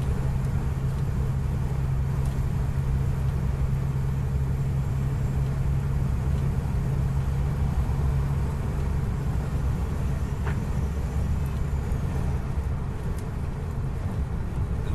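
Cars pass and overtake on an open road, heard as a steady, loud engine drone and tire roar that runs continuously with slight swells, with no talk.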